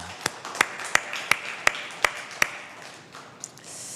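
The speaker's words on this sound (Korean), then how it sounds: "박수로 환영하겠습니다" A few people clap in a church service to welcome a visiting pastor, giving about seven sparse, distinct claps at a steady rhythm before the sound fades out.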